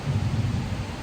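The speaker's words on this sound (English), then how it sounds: "We got some thunder rolling in." Thunder rolling in during a storm at a campsite with a four-wheel camper, a deep, continuous low rumble heard from a distance over a soft wash of rain, brief and without voices.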